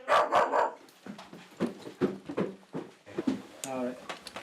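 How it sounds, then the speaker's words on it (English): A small yappy dog barks in quick, sharp bursts inside a house, close and loud, with people talking over and between the barks. "the team are inside and met by a yappy dog"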